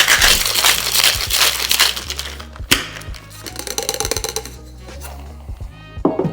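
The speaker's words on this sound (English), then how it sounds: "Now add ice to the shaker and shake for about 10 to 15 seconds." Ice cubes rattle hard inside a cocktail shaker while a Paper Plane cocktail is made, a loud burst of crunchy clatter that pauses briefly and then picks up again in sharp rhythmic shakes.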